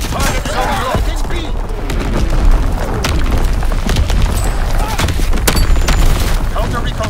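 Dense booms and rapid gunfire crowd together in Call of Duty WWII, an artillery barrage pounding loudly and almost without pause, with voices speaking over the din.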